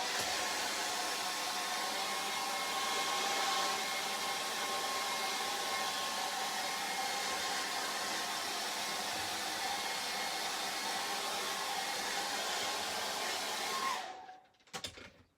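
A hair dryer blows steadily and close up, drying wet acrylic paint on a charcoal and acrylic portrait. The constant whirring roar holds for about fourteen seconds, then clicks off and dies away.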